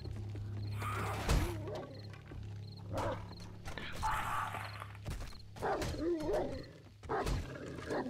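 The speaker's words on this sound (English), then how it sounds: "And now this wolf." Wolf in the zombie survival game Desolation 2 snarling and growling as it attacks, with repeated close, aggressive bursts of rough vocal noise over a steady low game drone.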